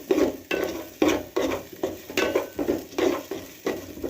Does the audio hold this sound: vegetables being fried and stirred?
yes